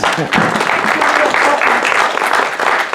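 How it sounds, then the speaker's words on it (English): Audience applause for a volunteer called up to launch rockets at a science show, a steady loud wash of clapping from a crowd throughout. "Give her a round of applause."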